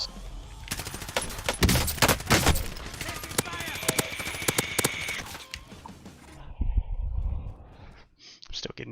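Rapid video game gunfire crackles in dense bursts of sharp shots for several seconds as the player is sniped at, with a voice sighing and reacting over it before the shooting stops and a brief electronic tone follows.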